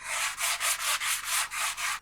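A carbon fiber telescope tube is sanded by hand in about nine even back-and-forth strokes, a close, bright, rhythmic rasping with no other sounds.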